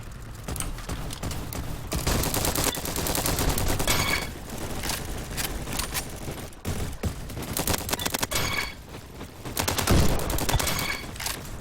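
Rapid PP2000 submachine gun bursts in Roblox Bad Business, loud and near, with dense repeated volleys running almost continuously and only short gaps between strings of shots.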